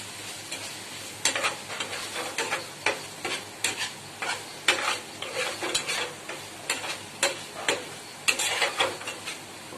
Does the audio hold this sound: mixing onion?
yes